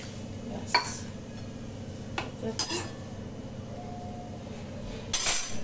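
A lid set onto a cooking pot in a home kitchen: a few separate metallic clinks and taps spread over several seconds, close by against a quiet room background.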